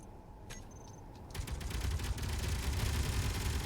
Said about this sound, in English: there's definitely fire being exchanged